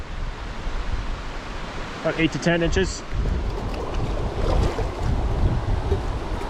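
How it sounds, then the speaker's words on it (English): Wind gusts at a mountain lakeside blow across the microphone as a continuous rumbling buffet throughout. Someone speaks briefly partway through. "it's pretty windy today."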